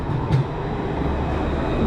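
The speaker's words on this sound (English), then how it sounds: "some more trains come, not trains but trams." Trams arrive at a station in France with a steady low rumble and rolling rail noise, a broad, continuous hum heard fairly near with no talk.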